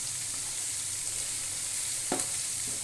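Garlic frying with cinnamon and black cardamom in a pan over medium heat: a steady, close sizzle that stays even throughout, with a brief sharp scrape near the end.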